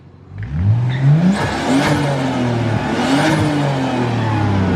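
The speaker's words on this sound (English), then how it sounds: "Give it a rev." A car engine revs hard in a garage during a budget Evo bucket seat install, climbing through rising pitch sweeps in a few loud, close bursts before settling into a steady high idle.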